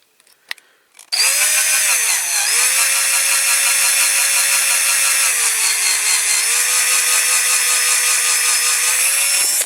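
A power drill bores steadily into a die-cast Dinky Toys MG Midget model car (No. 108), whining loud and continuous for about nine seconds after a brief start, with slight pitch dips as the bit meets resistance.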